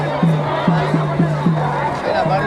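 Dense crowd hubbub at the Gadhimai fair near the temple, a steady murmur of many voices with a repeated tonal horn or whistle pulsing over it.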